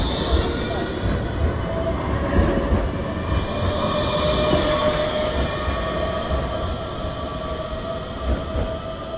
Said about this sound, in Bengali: হচ্ছে ট্রাম লাইন, গাড়ি, ট্রামেরও আপ ডাউন।